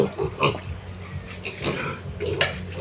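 Piglets squeal and grunt for food on a pig farm, several close, loud, overlapping calls in quick bursts with steady pen noise behind them.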